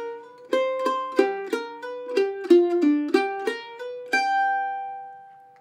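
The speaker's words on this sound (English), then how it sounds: "we have a very typical bluesy lick" Mandolin picking a bluesy lick over the five chord of a song, a run of crisp plucked notes stepping downward in an even rhythm before resolving on a final ringing note that fades out.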